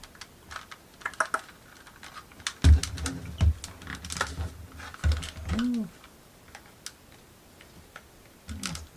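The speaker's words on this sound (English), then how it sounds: "More plastic clips. Gotta stressfully work your way free." Someone pries the plastic clips of a DualSense controller shell open, making sharp clicks and snaps along with soft scraping and handling noises, all close up and irregular.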